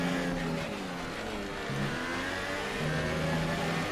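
An F1 2018 racing car engine revving in the video game, with a steady buzzing drone that rises and falls slightly throughout, loud and continuous.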